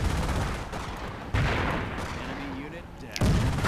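Machine gun and explosive fire rattle in the Company of Heroes war game, a dense, loud barrage with sharp booms near the start and end, with a voice faintly underneath.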